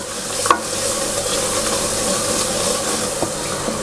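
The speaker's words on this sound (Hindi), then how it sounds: "ये सब चीज़ें ऐड करने के बाद मसालों को थोड़ी देर ऐसे ही भूनेंगे" Ground coriander and turmeric roast in a pan for a Pakistani lauki chana daal, giving a steady close sizzle with light stirring scrapes and one sharp clink near the start, no voices.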